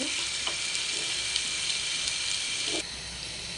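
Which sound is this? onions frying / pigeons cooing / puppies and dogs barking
onions frying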